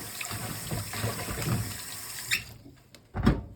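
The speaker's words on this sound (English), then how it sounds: "Let's wash the vegetables thoroughly" Vegetables being washed thoroughly under running tap water before making spring rolls: a steady close splash and trickle with sloshing, a brief pause, then a louder burst of water.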